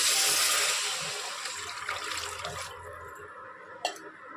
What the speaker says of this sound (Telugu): ఇప్పుడు వాటర్ యాడ్ చేస్తున్నానండి